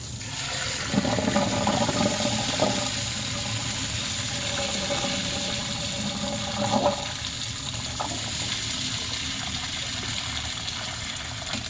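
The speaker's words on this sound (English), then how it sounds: "What I'm going to do is go over to the sink and drain these." Hot water from boiled sweet potatoes pouring out of a pot into a kitchen sink, a steady rushing splash running throughout with a few clanks of the pot, close and moderately loud.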